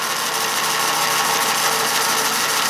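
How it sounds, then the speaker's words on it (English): A Shopsmith belt sander runs with a loud, steady, close whir and a grinding hiss, unbroken and without talk. "We can go to the belt sander."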